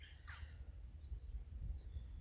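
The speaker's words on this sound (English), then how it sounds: "See, these birds agree." Birds calling outdoors, a single faint crow-like caw early on over a quiet low background hum.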